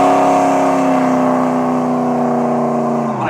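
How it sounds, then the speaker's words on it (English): A 1967 Buick GS-400 engine revs loudly up close, a strong sustained roar that climbs steadily in pitch over a few seconds and cuts off abruptly at the end, with no talking. "I'm going to introduce you to my 1967 Buick GS-400"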